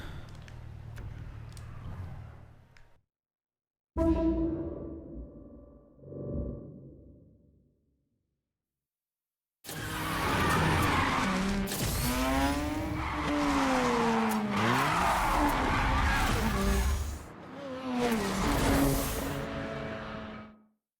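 A rental car drifts in the video game Need for Speed Heat, revving engine rising and falling with long wavering tire squeals and skids, after brief bursts of engine noise separated by silence.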